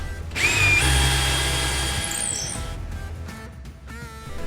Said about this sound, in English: Knobs we'll pre-drill for all day long.